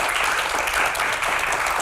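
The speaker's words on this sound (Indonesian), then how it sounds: "berikan tepuk tangan yang paling meriah untuk rekan-rekan mahasiswa yang ada di studio" A studio audience of university students bursts into dense, lively applause, a continuous wash of many hands clapping at once, loud and close throughout the short burst.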